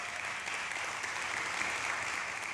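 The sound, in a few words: audience applause at a mastermind event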